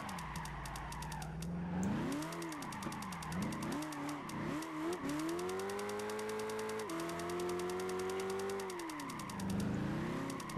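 A Corvette in Gran Turismo 5 drifts, its engine revving loud and close, rising and dipping repeatedly as the throttle is worked, then holding long high notes with tire squeal layered on top, with no talk.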